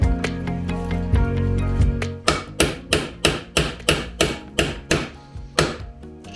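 A brushless motor from a cordless drill has its shaft hammered out: a low rumbling scrape first, then about ten loud, evenly spaced metallic hammer blows close by, with no talking.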